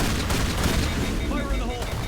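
A shotgun fires in Mass Effect Legendary Edition amid dense, continuous gunfire and booming blasts of combat, loud and close throughout.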